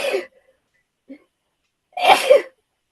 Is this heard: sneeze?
yes